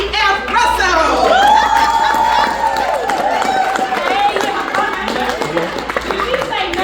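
An audience at a travel business event claps and cheers loudly and continuously, with whoops and shouts mixed in, while a voice speaks over the crowd.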